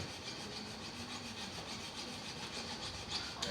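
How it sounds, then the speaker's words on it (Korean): Hand saw cutting through a wooden piece for a square orchid box, a steady run of rasping back-and-forth strokes, close and moderately loud, with no talking. "톱질을 하면 돼요."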